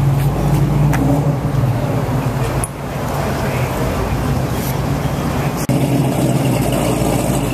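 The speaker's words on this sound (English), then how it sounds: "That motor sounds coming from this pickup truck back." Pickup truck motor running steadily at close range, a continuous low rumble with road and traffic noise blending in throughout.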